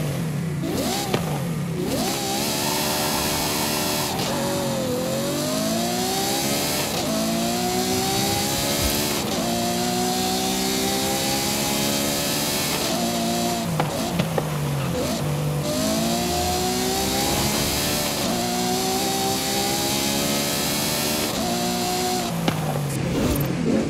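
Game-engine V12 exhausts from Forza Horizon 5 engine swaps, 6.1 to 7.7 litre and a racing V12, roaring loud and close, repeatedly revving up and shifting across a continuous run of rising pulls.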